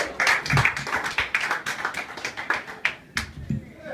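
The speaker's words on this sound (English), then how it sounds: "Please give a warm round of applause for Greg Enyart," A small comedy-club audience claps for comedian Greg Enyart, sparse and uneven, with individual hand claps standing out close by rather than a full roar.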